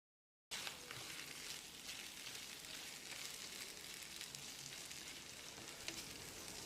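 Marinated chicken pieces land in a hot pan for chicken thokku, bursting into a loud, continuous crackling sizzle right after a moment of silence and frying steadily without any talk.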